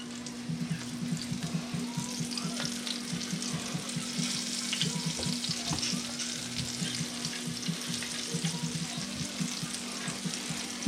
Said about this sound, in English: Okay, now let's put these wings in and see how they go. Perfect. The oil is ready, and in they go.